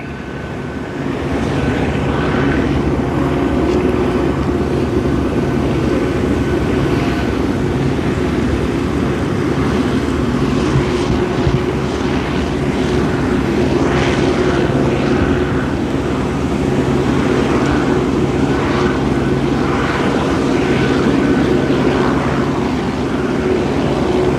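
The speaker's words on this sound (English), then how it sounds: "We have a helicopter trying to get in on the action." A steady, loud droning engine hum of an LAPD helicopter flying low overhead a burning church in Los Angeles continues for the whole stretch, with no talking.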